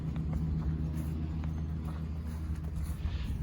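A bus with a Detroit Series 60 diesel engine running, a steady deep low rumble close by with faint clattering texture, no talk.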